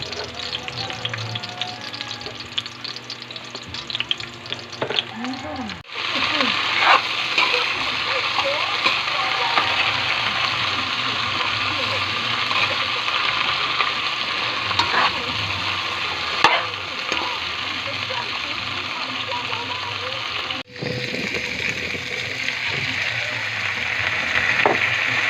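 Ingredients for corned beef sinigang sautéing in a pan, a steady close sizzle with occasional clinks and stirring that grows louder after a brief pause and runs on continuously.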